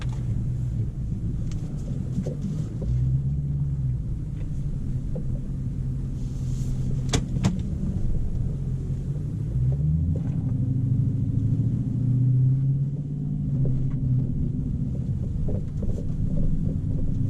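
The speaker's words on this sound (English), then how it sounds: "the great thing about track mode is the exhaust is nice and loud" A Dodge Charger Scat Pack exhaust in track mode gives a deep, steady rumble idling close by, with low droning tones that swell and shift briefly a couple of times, running continuously without voices.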